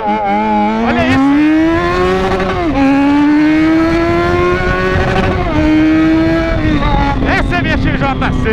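A Yamaha XJ6 motorcycle with a straight-pipe exhaust revs close up, a loud, raw, continuous roar that rises and falls through several throttle blips and sustained high revs.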